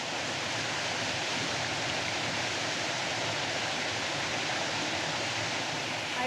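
A swollen river rushes over rocks and stones after heavy rains, a dense, steady roar of churning water that holds unbroken and close throughout, with no voices.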